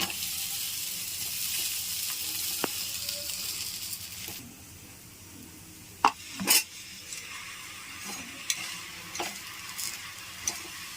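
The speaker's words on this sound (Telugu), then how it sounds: "దోశ ఒక సైడ్ కాలిపోయిన తర్వాత రెండో సైడ్ తిప్పించేసుకుంటున్నాము" A dosa fries on a hot pan with oil, sizzling steadily up close, with a few sharp clanks and scrapes from a spatula as it is flipped.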